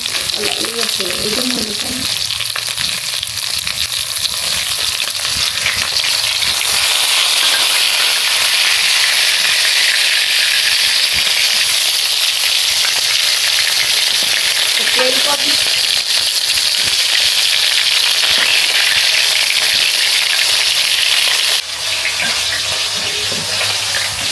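Fish fries in hot oil in a pan, a steady loud sizzle running throughout with occasional stirring and turning noises, no talk over it.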